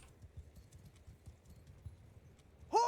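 Horses clip-clopping as mounted cavalry shift about in Mount & Blade II: Bannerlord, a soft, steady patter of hooves at a distance, ending in a brief louder burst.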